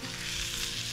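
A fish fillet sizzles and crackles steadily in hot frying oil, a dense, continuous hiss heard up close with no voices.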